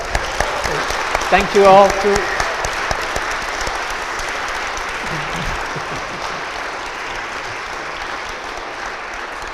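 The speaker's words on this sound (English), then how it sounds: "Let's give him another round of applause." An audience at a talk event applauds, a burst of clapping around two seconds that quickly thins into scattered claps, with someone briefly speaking over it.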